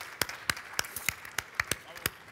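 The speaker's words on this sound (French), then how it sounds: "Mais je pense qu'on peut les applaudir." Audience applauding two chefs at a world cuisine summit, a sparse run of separate claps, about a dozen, moderately close and fairly light.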